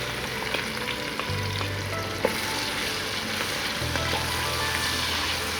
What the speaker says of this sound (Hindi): अब हम इसमें अनियन डालेंगे फ्राई होने के लिए।